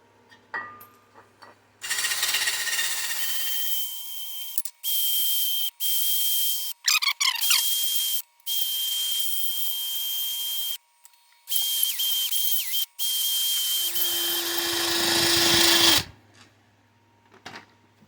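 A power tool whirs in long on-off bursts while bolts are backed out of a Lesco walk-behind mower transmission, with short ratcheting clicks and pauses between runs, loud and close.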